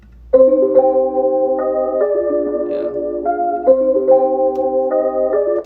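A mellow, muffled lo-fi chord-based beat plays steadily with a soft low-end rumble underneath, chords shifting every second or so; no one speaks.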